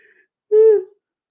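One short, voiced yawn with a rising-and-falling, hooting tone, heard alone in an otherwise quiet room.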